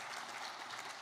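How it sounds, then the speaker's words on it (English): Applause from the audience at the 2025 Greater Shepparton Volunteer Recognition Awards evening, a faint, steady wash of clapping heard briefly from a distance. "Feel free to give yourself a round of applause."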